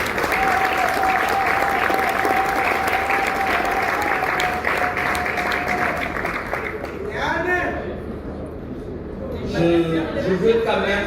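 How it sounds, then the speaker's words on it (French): A crowd at an awards event applauds a partner with dense, continuous clapping, and a voice is heard under it. The clapping gives way to people talking, then more voices and cheers rise near the end. "Merci d'applaudir aussi à ce partenaire."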